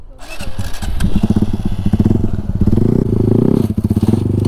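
A motorcycle engine revs hard and repeatedly while a woman learns to pull a wheelie, loud and close with a choppy pulsing throttle and rattling engine noise.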